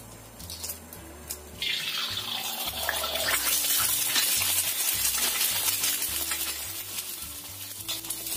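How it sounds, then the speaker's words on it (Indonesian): Two eggs hit hot oil, and a quiet background swells into a loud, hissing, spattering sizzle that holds steady at close range over a faint low rhythmic hum, with no speech. "Setelah kira-kira minyaknya panas, aku akan gunakan 2 butir telur ya"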